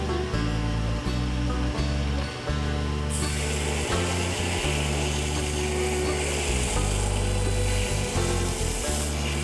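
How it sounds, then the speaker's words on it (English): A belt grinder with a worn belt grinding a hand-forged knife blade: a loud, continuous abrasive whir with a steady motor drone, its pitch shifting as the blade is pressed and lifted in repeated passes. "Well, grinding would be my next step."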